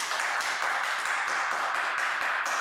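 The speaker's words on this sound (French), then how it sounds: "Prochain participant. Applaudissez-le s'il vous plaît." Studio audience at a Pop The Balloon dating show applauds a new contestant: a dense, steady wash of many hands clapping close by, sustained evenly throughout with no voices on top.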